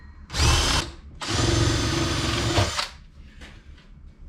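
A power drill fitted with a 2-inch hole cutter bores through wood for a homemade birdhouse, two loud sustained grinding bursts of roughly one and a half seconds each, separated by a short pause, followed by quieter handling noises.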